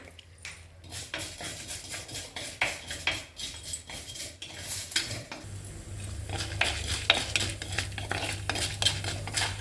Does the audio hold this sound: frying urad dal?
yes